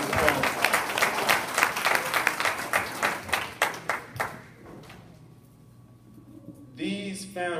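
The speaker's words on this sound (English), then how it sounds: "a round of applause." Audience applause at a family reunion banquet: a crowd claps briskly and loudly for several seconds, then the clapping thins out and fades, followed by a short ping and a brief voice.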